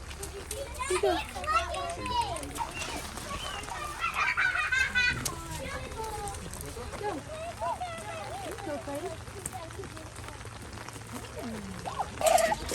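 Farm chickens cluck and squawk nearby while children and adults talk and play loudly over them, with a busy outdoor barnyard bustle throughout.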